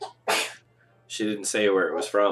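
A single sharp sneeze bursts out near the start, followed by someone talking close to the microphone.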